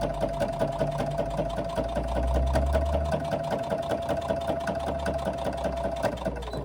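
A sewing machine runs steadily, double stitching across the binding of a handbag, its motor humming with a rapid even needle rhythm, close and continuous throughout.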